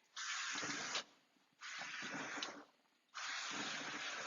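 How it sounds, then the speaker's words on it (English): Three close hissing bursts of cooking spray onto a grill, each about a second long, separated by short pauses. "we're going to just spray the grill."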